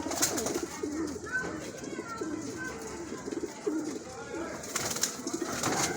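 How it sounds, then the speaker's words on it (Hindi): A female lal sar (red-headed), badam-colored pigeon coos in soft repeated low calls, close by, while someone talks over and between the coos. "ये उस कबूतर की मादी है, ललसरे कबूतर, बादाम सेरे की।"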